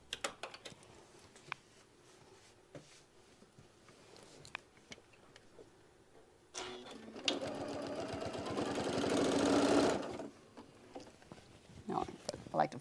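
A sewing machine runs a straight quarter-inch seam in one sustained burst of about three seconds, close and loud, with quiet handling clicks and rustles before and after.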